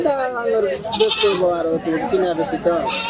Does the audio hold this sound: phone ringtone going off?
no